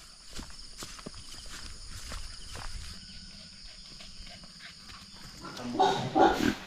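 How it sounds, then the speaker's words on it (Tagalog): Pigs on a rural farm after being fed: soft shuffling and movement noises, then a short cluster of louder grunts and squeals near the end, with a steady hum underneath. "Yung mga baboy namin, oh, busog na sila."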